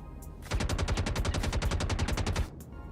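A loud, close machine-gun burst of rapid evenly spaced shots lasting about two seconds, fired at a ship in Star Citizen, with no talk over it.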